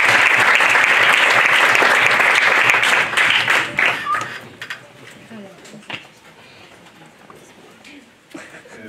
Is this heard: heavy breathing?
no